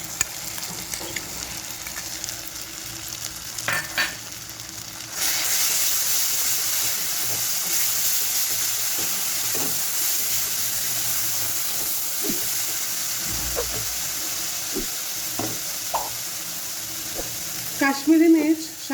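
Onion, ginger and garlic fry in a pan with a yogurt spice mix stirred in, giving a steady close sizzle and hiss under occasional soft clinks of a stirring spoon.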